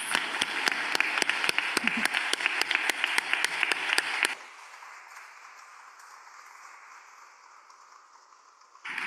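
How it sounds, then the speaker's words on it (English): A congregation claps for a group of teachers, giving a quick run of sharp, rhythmic hand claps up close that stops abruptly and leaves a faint room hush. "let's all give these amazing teachers a big round of applause"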